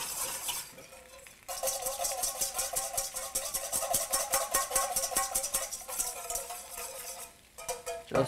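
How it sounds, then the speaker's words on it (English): A whisk clatters rapidly against a bowl, beating a red wine vinegar vinaigrette with mustard in fast, even strokes after a quieter start, close and clear with no voices. "I have red wine vinegar. I'm gonna whisk this up."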